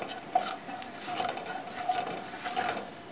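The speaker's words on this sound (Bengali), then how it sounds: "হালকা নেড়েচেড়ে নেব" Nigella seeds being stirred into hot oil in a wok, with a light scraping rhythm of the spatula against metal and a soft steady sizzle underneath, faint and close, no voices.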